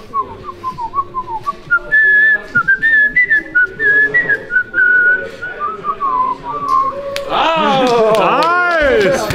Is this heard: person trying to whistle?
yes